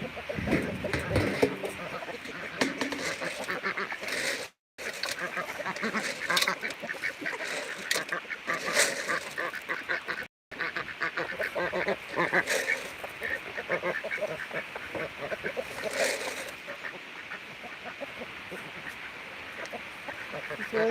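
Ducks on a rural South Dakota farm keep up a dense, constant chorus of quacks and honks close by, while a person talks over them now and then.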